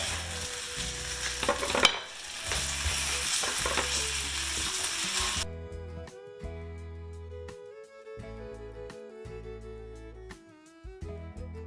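Green tomatoes fry in a pan with a loud, steady, close sizzle and crackle for about five seconds, then music takes over with the sizzle gone.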